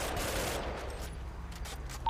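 Gunfire in the video game GTA V during a roleplay shootout with police, a brief burst of shots over a busy game soundscape.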